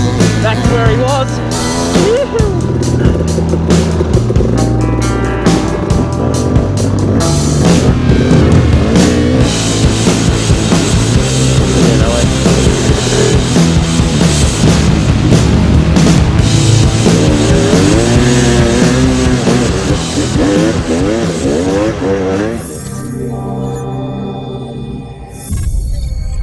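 An enduro motorcycle engine revs hard and close, rising and falling through gear changes in a continuous loud roar before easing off near the end, with a voice talking over it.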